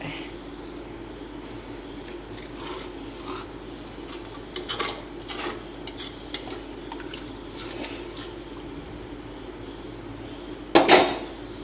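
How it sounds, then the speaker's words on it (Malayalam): A sharp clatter of a lid set onto a clay cooking pot near the end, after quieter scattered kitchen clinks over a low background hum. "ചട്ടിയുടെ തന്നെ ഒരു അടപ്പുണ്ട് അപ്പം അത് വെച്ചിട്ട് അങ്ങ് മൂടിയിട്ടുണ്ട്"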